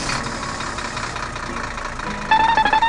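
A tractor engine hums and idles in a farming video game, a steady mid-pitched drone with a brief louder, chattering burst near the end.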